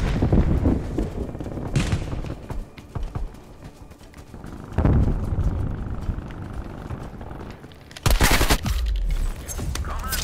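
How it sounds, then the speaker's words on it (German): An enemy gun turret in Call of Duty: Black Ops Cold War fires bursts of rapid gunfire amid chaotic multiplayer battle noise, with loud heavy volleys near the start, middle and end. "Das scheiß Geschütz wieder."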